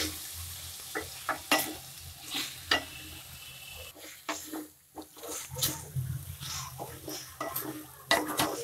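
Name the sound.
stirring brinjal tomato curry in a pan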